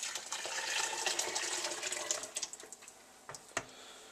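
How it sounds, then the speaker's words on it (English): Blended chicken soup is poured back into a pot with a steady liquid rush and splashing that gradually thins out, ending in a few drips and soft clunks, close and fairly quiet. "I'm just going to pour this back into my soup."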